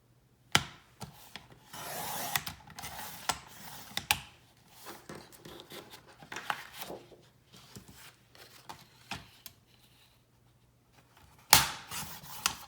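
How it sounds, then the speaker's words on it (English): Paper is cut by hand for a planner spread, giving soft scattered snips, rustles and rubbing sounds at close range with occasional sharper clicks, no talking. "now we'll cut this one."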